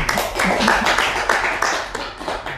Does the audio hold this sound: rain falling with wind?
no